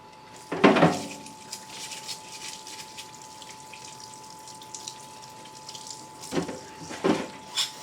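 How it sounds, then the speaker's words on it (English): Water runs steadily from a tap as transmission parts from a 4R70W-to-Dana 20 swap are washed, with louder splashes and clatter near the start and end as the parts are rinsed, and no talk. "So let's wash this stuff up."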